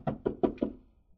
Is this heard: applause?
no